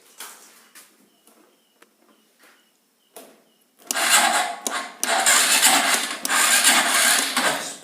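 On a Honda Supra 125 motorcycle, the electric starter gives a few short, faint clicks and scrapes, then cranks in loud, strained whirring bursts broken by brief gaps.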